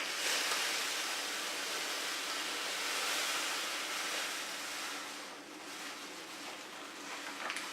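A steady stream of liquid pours into a beer brew pot, a continuous splashing rush that softens slightly toward the end.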